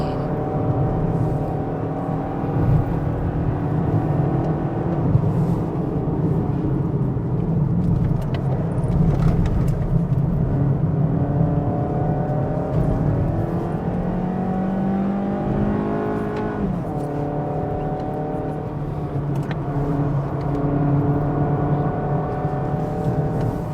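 A Mazda CX3 with a 1.5 engine pulls steadily uphill in third gear on a hill climb at Genting, its engine drone heard from inside the cabin, strong and continuous, rising in pitch as revs climb, with no talk.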